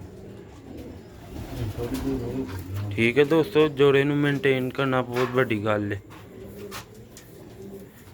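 Sialkoti and Ferozpuri pigeons coo in a steady, rounded rhythm, loudest in a dense middle stretch, while someone speaks close by over them.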